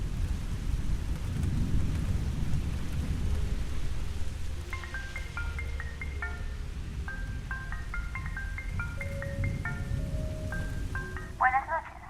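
Heavy thunderstorm with steady rain pouring throughout, low rumbling thunder swelling in the background, and faint electronic tones chirping over the downpour in the second half.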